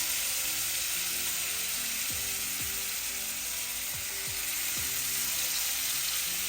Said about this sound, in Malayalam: ഈ ഒരു രീതിയിൽ ഫ്രൈ ചെയ്തെടുത്താൽ മതി കേട്ടോ